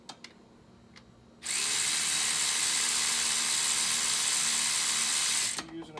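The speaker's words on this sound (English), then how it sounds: "If you're using a power tool, be careful not to back yourself all the way up against that frame" Power tool spinning out thermostat housing bolts on a 2017 Ford Fusion 1.5 EcoBoost, a loud steady whirring drone held for about four seconds then cutting off, close up with faint clicks before it starts.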